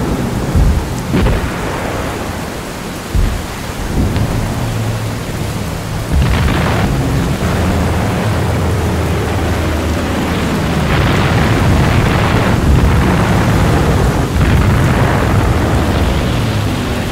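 Thunderstorm with heavy rain pouring steadily on surfaces, broken by several loud rumbling thunder crashes and booms, continuous and loud throughout with no talk.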